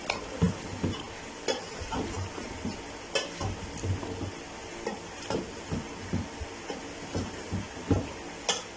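Onions sizzling and frying in a pot for beef stew, cooking until soft, with a steady crackle and repeated scraping stirs of a utensil against metal.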